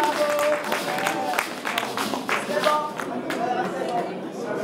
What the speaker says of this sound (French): bel applaudissement